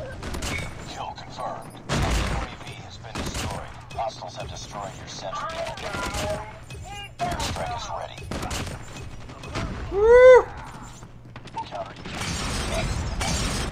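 Sharp bursts of gunfire and a heavy blast crack through a Call of Duty Mobile match, with mechanical weapon clicks and game effects between them, and someone talks over the action.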